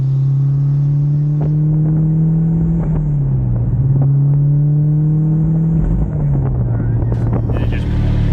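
A turbocharged mid-engine Mitsubishi Eclipse drives at a steady engine drone with two brief dips in pitch like gear shifts, loud and close, with wind buffeting throughout.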